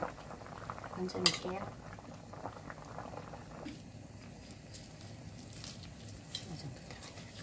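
A pot of Korean jjigae stew with tofu, green onion and chili flakes bubbles softly, with a few utensil clinks as someone speaks briefly over it.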